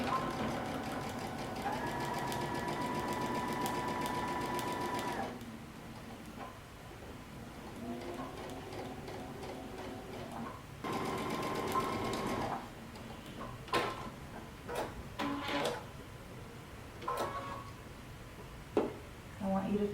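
A sewing machine stitches a coat lining seam at a 5/8-inch seam allowance, running in steady, whirring bursts of several seconds separated by pauses with handling clatter.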